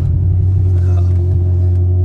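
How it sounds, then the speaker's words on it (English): A BMW M6 engine idles with a steady low rumble, close and constant throughout. "Turn on your vehicle's engine."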